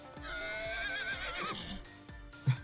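Horse neighing in a long wavering whinny with hoof clip-clops underneath, moderately close, ending with a soft thud.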